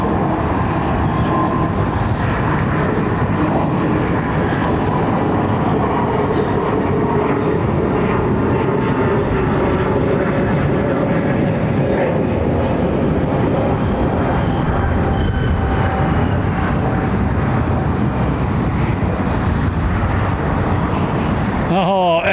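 Jet airliner taking off at London Heathrow Airport, a loud, sustained engine roar that keeps building and rumbling throughout, heard from nearby without talk.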